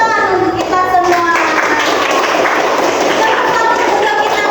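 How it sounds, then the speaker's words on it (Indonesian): A group of children in a classroom clap their hands together in a sustained burst of applause, with a voice talking over the clapping. "kita kasih tepuk tangan untuk diri kita sendiri"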